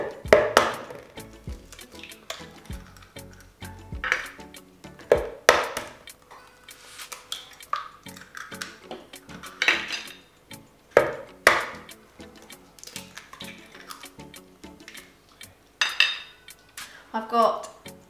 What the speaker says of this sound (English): I'm gonna start with 3 eggs. I'm just going to pop into my bowl.